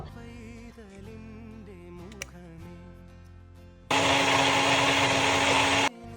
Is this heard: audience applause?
no